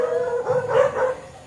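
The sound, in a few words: dogs barking and howling, teased by children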